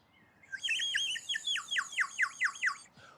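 A bright bird-shaped wind whistle, shaped like a woodpecker, plays a rapid run of chirping, bird-like notes, eight or so quick warbling trills in a row, close and clear with nothing else in the background.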